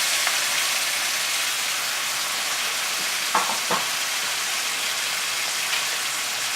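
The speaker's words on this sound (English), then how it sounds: "I'll let those sear on that side." Steaks searing in a hot pan give a loud, steady sizzle and crackle close by, with a couple of brief clinks partway through.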